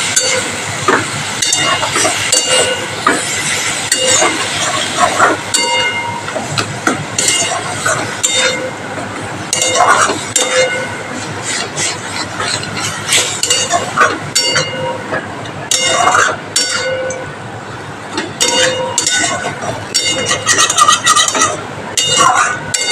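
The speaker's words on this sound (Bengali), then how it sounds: "এবার পটলটাকে আমি একটু ভালো করে ভেজে নেব।" Pointed gourd (potol) fried in a pan with turmeric and salt gives a steady sizzle, broken by frequent metallic clinks and scrapes from stirring, close and fairly loud throughout.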